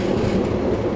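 The Vishwamanava Express rumbles along steadily as it gathers speed, a close, continuous low roar of wheels and carriages with no voices.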